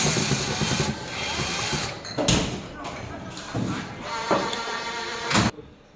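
Screws being removed with a screwdriver from the pickup door of a robot machine, heard as a run of clicks and sharp thuds of parts shifting, fairly close, with a person talking throughout.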